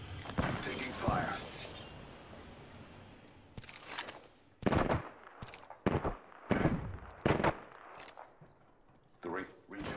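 Bursts of gunfire in Apex Legends, a rapid volley at the start followed by several sharp, separate shots and short bursts spaced through the rest, with spoken voice lines in between.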